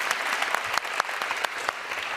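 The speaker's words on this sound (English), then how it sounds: "yes, you can clap for that" An audience at a HagueTalks event on women, peace and security breaks into brisk, dense clapping, a thick, even wash of many hands sustained throughout.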